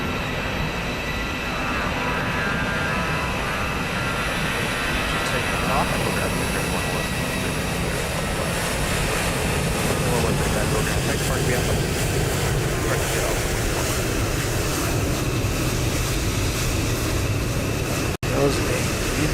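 Steady broadband drone of an aircraft engine in flight on an early morning trip from Dallas to Asheville, continuous and loud throughout, with voices speaking over it.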